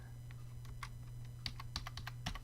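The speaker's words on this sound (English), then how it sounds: "So I'll type that new power number in" Computer keyboard being typed on, a quick, light, irregular run of close clicks over a low steady hum.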